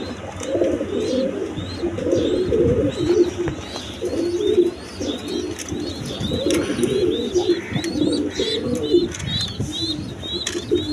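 Several pigeons kept as healthy breeding birds coo repeatedly in rhythmic, throaty phrases close by, with chirps and small rustles mixed in and no talk.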